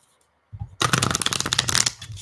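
Tarot cards shuffled by hand in a quick riffling burst that starts after a brief silence and continues as a dense, crisp flutter for over a second before trailing off.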